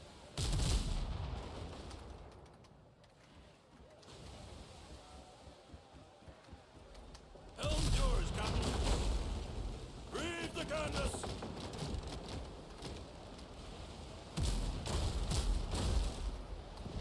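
Repeated bursts of video game gunfire aimed at a ship, arriving in loud, dense volleys separated by quieter stretches of rumble and crackle.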